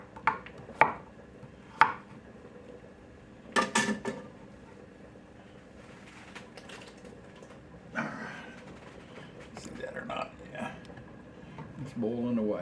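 A knife chops corn and potatoes on a cutting board in a few sharp, separate strikes, with a person talking close by between the cuts.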